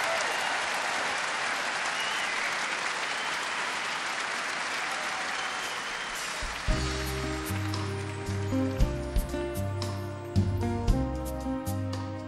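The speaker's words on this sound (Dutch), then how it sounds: "Geef hem een groot applaus." Audience applause rising for a singer at a Max Proms 2017 concert, loud sustained clapping and crowd noise throughout, with music beginning to play partway through as the applause continues.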